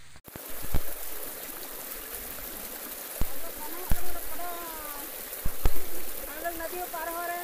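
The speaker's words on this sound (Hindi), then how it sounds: "हम लोग नदियों पार हो रहे हैं दोस्तों, देखिए इतना नदी बह रहा है" River water flowing and splashing as people cross a rural river during rice harvest work, a continuous burbling stream with intermittent splashes and clicks, while voices talk over it.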